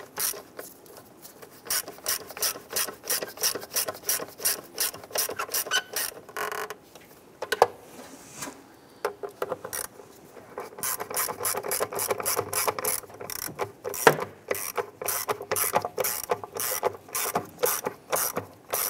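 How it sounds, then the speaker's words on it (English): A ratchet snugs down the MAP sensor bolts on a 2002-2008 Dodge RAM, giving quick rhythmic runs of close, crisp pawl clicks with short pauses between strokes. "Let's go ahead and snug these bolts down."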